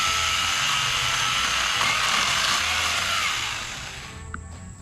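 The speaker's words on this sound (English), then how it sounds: "Cut this mimosa tree. I will chainsaw." A loud, steady buzzing Ego battery-powered chainsaw cuts a mimosa tree close by for several seconds, then its tone drops and eases off near the end.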